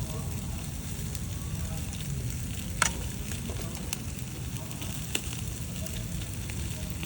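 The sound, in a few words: Korean kalbi beef sizzling on a grill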